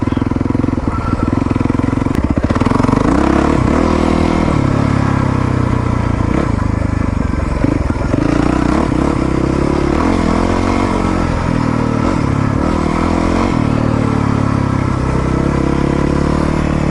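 Yamaha WR450F dirt bike fitted with a new chain and sprockets, its engine running loud and close, idling and revving steadily throughout, with mechanical clatter and a continuous exhaust drone.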